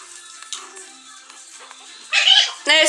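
Young Chihuahua puppies wearing collars for the first time give high, thin yips and whimpers, with a couple of sharper bursts of yapping toward the end, close by.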